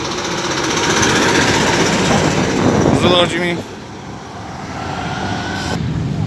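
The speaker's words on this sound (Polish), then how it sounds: "Nie widać motocykli, ale i słychać z daleka." Loud motorcycle rumble and roaring engine noise fill the scene at a motorcycle show in Białystok, with a person talking briefly over it before the din eases to a steadier drone.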